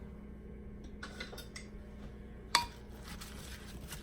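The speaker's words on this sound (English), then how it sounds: "And then I'm going to give this a good stir, and then it's just going to sit and pickle" A utensil stirs food pickling in lime or lemon juice, giving light clinks and scrapes against the bowl, with one sharp knock midway over a low steady hum.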